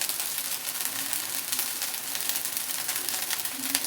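Mint rice with pudina paste sizzling steadily in a hot pan on high flame as it is tossed, a continuous close crackle with no talk.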